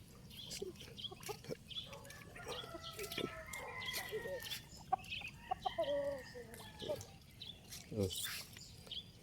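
A rooster and chickens cluck and call close by in the early morning, with scattered short squawks, while people talk in the background.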